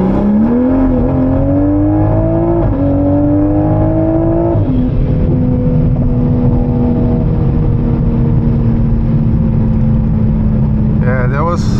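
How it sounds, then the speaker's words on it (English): Toyota Supra with a turbo engine making a hard third-gear pull in sport mode with traction control off, a loud, close engine drone whose pitch climbs steadily, then drops at a shift and holds a steady, heavy roar. "my tuner asked for a third gear pull from 2000 RPM all the way to a top of fourth"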